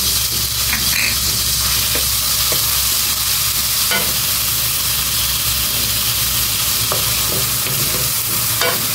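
Shrimp paste (alamang) sizzles and crackles steadily as it fries in a pan, a dense, close, continuous hiss with occasional soft stirring clicks and no voices.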